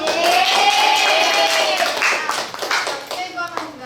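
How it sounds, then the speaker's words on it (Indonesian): Classroom of students clapping for a classmate, brisk close-up clapping with children's voices chattering and exclaiming over it, fading into scattered claps. "tepuk tangan untuk Ima dong"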